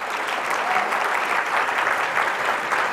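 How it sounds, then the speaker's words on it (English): An audience at a charity gala gives steady, dense applause filling the hall, loud and continuous throughout. "we should clap."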